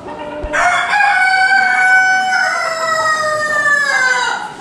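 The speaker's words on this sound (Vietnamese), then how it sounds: "Đây nè, giống gà Onagadori nè." A Japanese Onagadori long-tailed rooster gives one long, loud crow close by. The crow rises sharply and holds for several seconds before trailing off.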